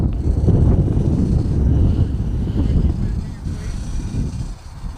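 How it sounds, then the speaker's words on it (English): Wind buffets the microphone at a youth soccer match at Baltimore Polytechnic Institute on a blustery day, a loud, steady low roar that eases slightly toward the end. "Very windy, blustery day here at Baltimore Polytechnic Institute in Baltimore, Maryland."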